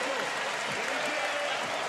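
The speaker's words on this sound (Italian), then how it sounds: "Adesso anche l'invito dello speaker ad applaudire" Crowd applause fills a basketball arena during a championship final game, steady clapping throughout with a commentator's voice talking over it.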